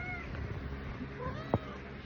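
A pet cat gives a single short meow partway through, indoors against a low steady background hum with no talking.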